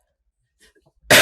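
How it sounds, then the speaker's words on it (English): A person recovering from sickness gives a single loud, harsh cough up close after a few quiet breaths in near silence. "Now I'm gonna cough."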